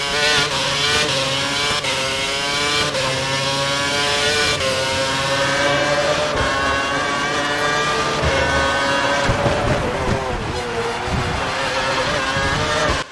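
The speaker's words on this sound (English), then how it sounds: "one thing I like straight away is the engine tone, specifically the upshift" An F1 2012 race car engine in a video game revs loudly and continuously, its pitch climbing steadily and dropping sharply at each of several upshifts.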